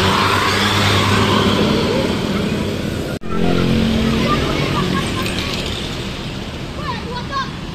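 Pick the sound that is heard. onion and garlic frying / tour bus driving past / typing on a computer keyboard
tour bus driving past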